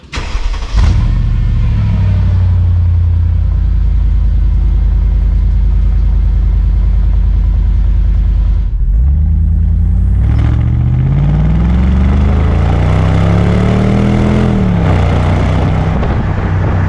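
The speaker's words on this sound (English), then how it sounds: "The exhaust sound is great. It's got a rich, fruity exhaust note" A Mercedes-AMG supercharged M113K V8 starts with a loud bark, then settles into a deep, rumbling idle before revving up with rising, rich exhaust notes and falling back, loud and close.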